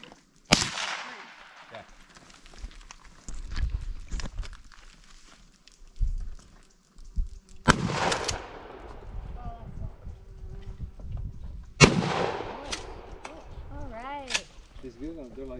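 Target shooting outdoors with a .22 rifle and a handgun: three sharp, loud reports spaced several seconds apart, each with a ringing decay, while people talk quietly in between.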